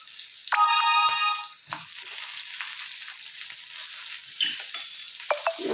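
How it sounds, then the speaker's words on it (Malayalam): Chopped onions sauté in hot oil in a pan for tomato sambar, a steady hiss of sizzling broken by a short electronic ringtone melody early on and a few scattered clicks of utensils. "അത് എണ്ണ ചൂടായിട്ട് ഞാൻ അതിലേക്ക് ഉള്ളി മുറിച്ച് വെച്ച ഉള്ളിയുണ്ട്."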